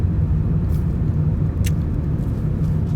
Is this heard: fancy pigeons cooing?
no